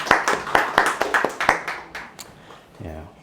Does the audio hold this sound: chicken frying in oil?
no